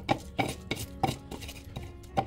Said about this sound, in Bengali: এটাকে আমি একটু ম্যাশ করে নেব